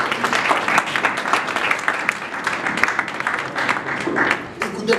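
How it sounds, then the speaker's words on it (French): Church congregation applauding at a service, a loud burst of many hands clapping close by, mixed with crowd voices and speech. "Nous acclamons très fort pour la parole de Dieu"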